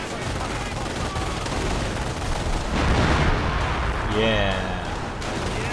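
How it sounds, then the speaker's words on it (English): 25-pounder howitzers fire in the video game Company of Heroes, heavy booming blasts swelling over dense battle noise, with a voice briefly speaking. "Get those 25 pounders firing. Target my smoke and fire the howitzers."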